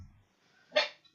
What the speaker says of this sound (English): just apologies about the dogs